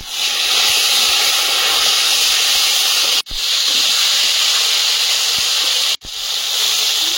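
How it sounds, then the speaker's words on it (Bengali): Taro fries in a pan with a loud, continuous sizzling hiss that cuts out briefly twice before resuming. "কচু ভাজা হচ্ছে"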